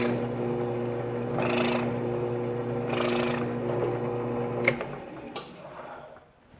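A drill bit chamfers the edges of holes in wood, a steady whirring motor drone with two brief bursts of cutting grind, then winding down with a couple of clicks.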